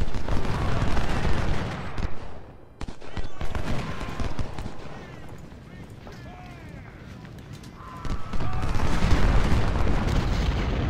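Musket volleys and artillery booms from a Union battle in Ultimate General: Civil War, a dense crackle of gunfire with heavy thumps that fades midway and then swells back loud.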